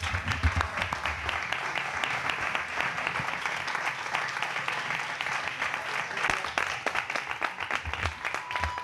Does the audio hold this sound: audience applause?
yes